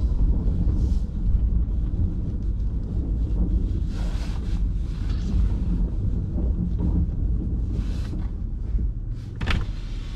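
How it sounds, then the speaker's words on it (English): Steady wind buffets the microphone with a low, continuous rumble and occasional gusts, outdoors with no voices. "It is kind of windy, but should be okay."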